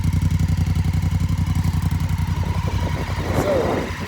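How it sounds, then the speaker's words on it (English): A motorcycle in neutral, with its stock exhaust in good shape, idles close by, its engine note a steady rapid low pulse. A brief higher blip sounds near the end. "here's an exhaust note as well"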